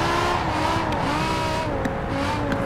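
A racing car engine in Forza Horizon 4 revs and shifts pitch continuously, a steady loud whine with tire squeal, no voices.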